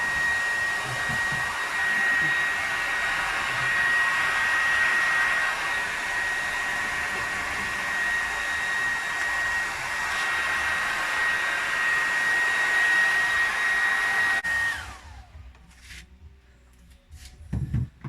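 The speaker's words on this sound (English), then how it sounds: "So we're going to use a cool hairdryer" A hair dryer on its cool setting blows steadily with a constant whine for about fifteen seconds while a deer is brushed with a soft brush, then cuts off, leaving a few soft handling noises.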